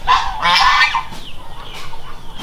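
Geese honk loudly and close by in a few harsh, overlapping calls over the first second, after which fainter honks and background noise trail off.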